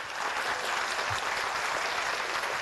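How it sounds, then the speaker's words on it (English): An audience at a diversity awards celebration in Indianapolis claps steadily, a dense, even burst of many hands applauding at close range for the full moment. "go ahead and give them a clap there"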